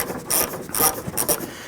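The rear door handle bolts on a 1992-1996 Toyota Camry are tightened with a ratchet, giving short bursts of close clicking pawl noise in quick groups with no voices.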